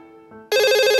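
A telephone rings loudly and suddenly, a dense buzzy electronic ring bursting in after a brief quieter tonal passage, close and alone.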